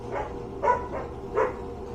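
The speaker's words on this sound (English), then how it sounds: "My dog is going crazy over there." A dog barks twice at a distance, short muffled bursts over steady background noise.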